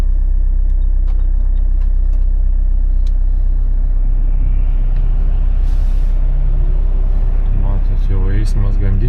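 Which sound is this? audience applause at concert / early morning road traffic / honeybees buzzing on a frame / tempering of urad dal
early morning road traffic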